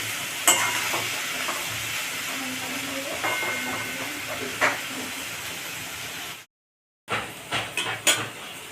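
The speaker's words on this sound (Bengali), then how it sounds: "এইভাবে নাড়তে থাকবো, নাড়তে নাড়তে যখন মজে আসবে তখন উঠিয়ে নেবো।" Taro stolon curry fries in a pan while a spoon stirs it, giving a steady soft sizzle with scraping clinks, a short silent gap, then more stirring knocks close by.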